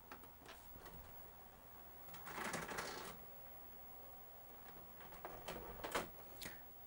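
A 1999 Toshiba 13-inch TV-VCR combo (MV13J3) ejecting a tape: a run of mechanical clicks and whirring, a louder grinding burst in the middle, then further clunks and clicks as the cassette comes out, close and quiet.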